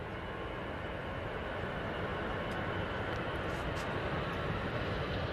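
An EasyJet airliner at Manchester Airport, a steady broadband jet roar that holds loud and constant throughout, with no voices over it.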